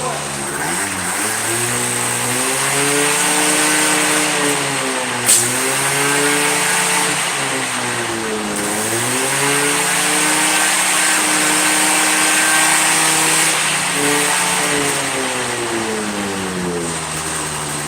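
The engine of a restored 1992 Yamaha Jog moped runs after starting, a loud, continuous buzzing drone whose pitch swoops up and down with repeated throttle blips and a brief click near the middle.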